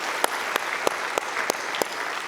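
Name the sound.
congregation applause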